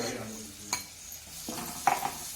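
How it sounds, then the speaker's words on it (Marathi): Garlic fried in a little oil for pav bhaji gives a soft, low sizzle in a pan at home, broken by a few sharp clinks and scrapes of a spoon against the pan. "थोडं तेल टाकून घेते म्हणजे मग लसूण परतायला बरं राहील"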